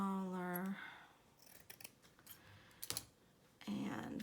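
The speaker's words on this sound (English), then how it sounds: "So I just kind of cut a little piece here" Scissors snipping a small piece of material for a decorated journal page, a few quick close cuts after a brief hum, with soft clicks and light handling sounds between.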